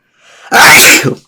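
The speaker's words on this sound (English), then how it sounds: "Sorry, I'm sneezing like crazy." A single loud, close sneeze with a brief inhaled buildup before the sharp explosive burst.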